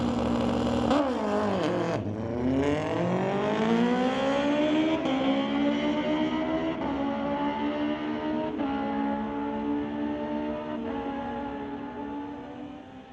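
A 2005 Suzuki GSXR and a 2012 Kawasaki ZX1 drag race at a street-legal event, their engines screaming loud and close and climbing steadily in pitch through the run before fading slightly.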